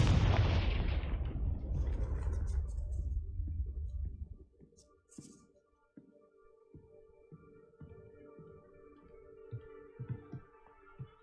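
A Confringo fire spell explodes in Hogwarts Legacy with a loud, booming blast that decays over several seconds, followed by quieter scattered debris clatter and faint game ambience.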